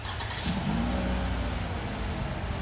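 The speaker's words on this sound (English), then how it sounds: "Simply press and hold. It's about 3 seconds. Activates the remote start." A 2018 Toyota RAV4 engine starting by remote start, a steady mid-pitched idle with a slight rise in revs near the start, heard from close by with no talking.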